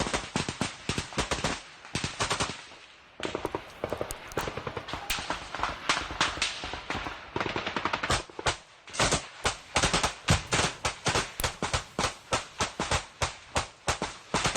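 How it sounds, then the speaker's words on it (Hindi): Heavy gunfire erupts in a firefight between Ukrainian and Russian soldiers, with dense rapid bursts giving way to a long run of loud, regularly spaced shots. "यूक्रेन और रूसी सैनिकों के बीच भीषण फायरिंग, ये देखिए जरा।"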